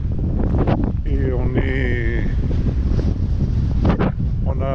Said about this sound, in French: aujourd'hui il y a beaucoup de vent